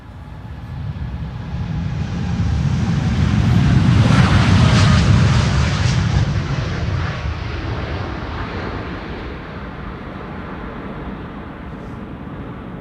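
Airliner jet engines roar at Amsterdam Schiphol airport as a plane departs in wind. The broad rumble swells to a loud peak, then fades slowly into the distance.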